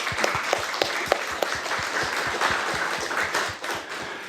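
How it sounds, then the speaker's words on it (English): Applause from an event audience, a run of light, evenly spaced claps that forms a steady patter and thins out toward the end, with no talk over it. "Let's give them all a big round of applause."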